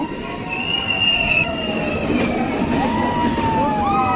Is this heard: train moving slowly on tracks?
yes